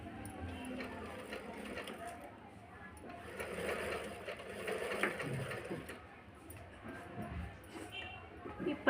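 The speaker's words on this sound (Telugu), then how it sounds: "నేను ఈ మధ్యనే కొత్త మిషన్ తీసుకున్నాను, ట్రై చేస్తాను ఈ పీకో ఎలా వస్తుంది అనేది మీకు వేసి చూపిస్తాను." A sewing machine stitches a picot edge along blouse cloth, making a continuous, fairly quiet whirring and rattling that rises and falls slightly in speed without stopping.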